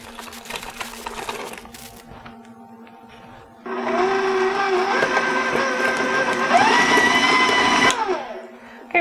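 An electric mixer beating butter and cream cheese for cookie dough, starting partway through as a loud, steady motor whir with the beaters churning, after a quieter stretch of kitchen clatter.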